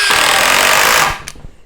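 A Milwaukee Gen 2 power tool runs loudly up close with a dense, jackhammer-like impact rattle for about a second, then cuts off, leaving a few faint clicks and knocks.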